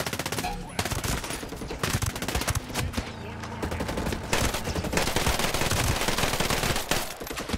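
Rapid automatic gunfire rattles through a shootout in the video game Ghost Recon Breakpoint, with loud, dense, nearly continuous bursts and overlapping shots filling the whole stretch.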